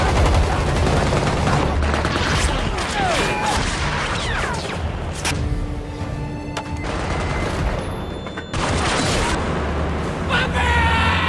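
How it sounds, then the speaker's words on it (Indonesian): Film gunfire as troops open fire, with dense bursts of shots and booms that fill the scene continuously, layered over a loud dramatic soundtrack. "Qabil pun langsung mengerahkan pasukannya untuk menembak"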